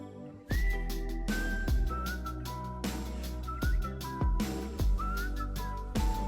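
A whistled melody from a song sounds over a thumping beat with heavy bass hits. The short, sliding whistle phrases repeat in a steady rhythm.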